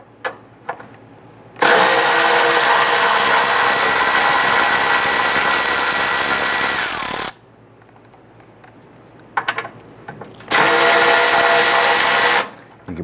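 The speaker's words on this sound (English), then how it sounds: "We're going to remove this bracket using a 10mm socket. Loosen and remove these two bolts." Loud power-tool whirring, likely an impact or power socket driver removing a bracket's bolts under the hood of a 1994-2004 Ford Mustang during a radiator replacement, runs in two long sustained bursts separated by quieter pauses with small clicks and handling noises.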